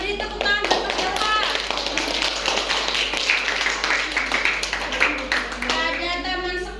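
A classroom of children clapping for a student, a dense, fast patter of hands that runs throughout, with children's voices and chatter mixed in.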